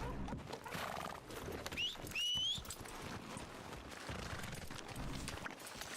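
A horse whinnies and hooves clip-clop in the Western video game Red Dead Redemption, a sharp rising neigh over steady hoofbeats, fairly quiet, with ambient game sound around it.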